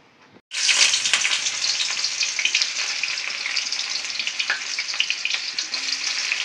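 Onions go into hot oil in a wok and burst into a sudden loud sizzle after a brief quiet moment, then keep frying with a steady crackling hiss and occasional stirring.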